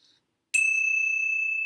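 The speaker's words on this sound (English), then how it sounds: "let's close our time together with the ringing of the bells." A single bell is struck once to close a meditation session. It gives a bright ringing tone that sustains steadily and evenly after the strike, heard alone without voices.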